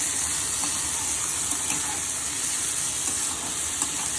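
Potatoes for sabudana khichdi fry in a pan with a steady, close, loud sizzle and hiss that continues without a break, and faint scraping from stirring runs beneath it.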